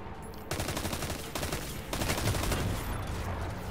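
Rapid automatic gunfire from a modern-feeling weapon in Destiny 2, loud, close bursts of clicking shots in quick rhythm, with brief pauses between strings, no talking.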